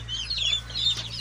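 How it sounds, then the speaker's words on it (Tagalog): Native chickens raised for fattening, giving soft, brief clucks and chirps over a steady low background hum, fairly faint and without speech. "Ito yung mga native chicken natin na for fattening"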